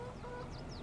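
A rooster in the farming video game Farming Simulator 22 gives a few quick soft clucks, faint and brief over a low background hum.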